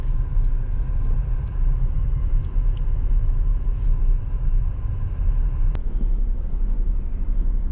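Traffic idles in a jam at a roundabout beneath a perpendicular flyover on a road trip, a Tata Tigor nearby; a steady low engine rumble with scattered faint horn taps and one sharp click-like sound.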